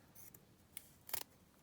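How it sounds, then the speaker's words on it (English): Blunt scissors snip through ribbon for a Victorian ribbon collar tie, a few quiet, sharp cuts spaced apart with a louder double snip near the end, close and alone. "picked up my blunt fabrics type scissors"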